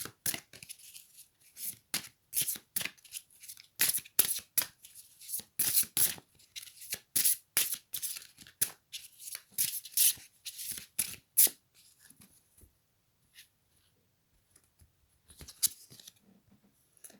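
A deck of oracle cards is shuffled by hand, giving a rapid run of crisp, close papery flicks and slaps that thin out into a few quieter rustles and taps as cards are drawn.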